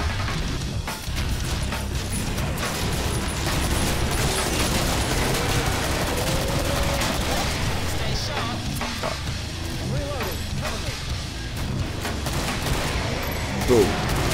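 Rapid, heavy AA-12 shotgun blasts in the video game Killing Floor fire in a dense, continuous barrage with crashing impacts, loud and close, in a noisy game mix.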